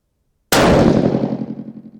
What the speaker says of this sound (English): left target, 2 shots